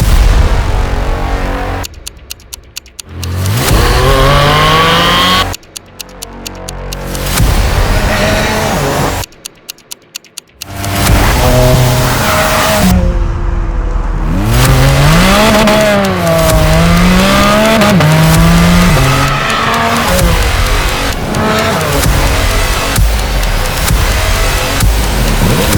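Loud Porsche 718 Spyder RS flat-six engine revving hard through repeated bursts, with brief cut-outs between blips and then a long rising and falling howl of acceleration, close and alone with no talk.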